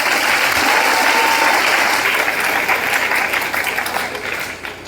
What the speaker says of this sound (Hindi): ताली नहीं बजाइए, बचा कर रखिए